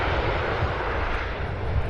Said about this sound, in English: 1104 arriving from Fort Lauderdale, Florida in a 22-year-old Boeing 737-800